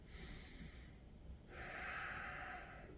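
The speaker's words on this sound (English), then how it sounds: "Take a couple of breaths here." Slow deep breathing during a yoga session for back and spine strengthening: a soft close inhale, then a longer, louder airy exhale, quiet and alone.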